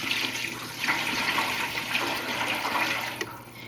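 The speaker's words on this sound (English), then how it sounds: "I'm adding 9 cups of tap water." Tap water pours steadily into a dye pan for a few seconds, a close, moderately loud rushing splash with no talking.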